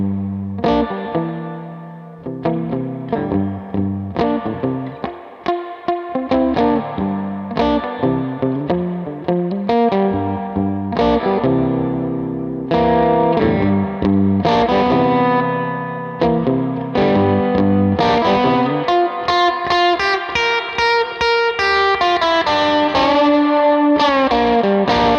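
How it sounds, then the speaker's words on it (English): Gibson SG electric guitar through an effects rig with distortion, giving a warm, thick driven tone; a continuous played passage of chords and melodic lines, loud and up close with a touch of chorus and echo, with no talking. "I'll play a little of the SG kind of. SG, and we'll switch it up. Warmer, bigger, thick kind of tone"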